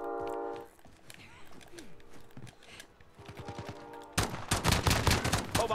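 Pistol gunfire in a video game: several sharp shots crack in quick succession, the densest burst near the end, mixed with game sound effects and footsteps and overlapping a player's voice.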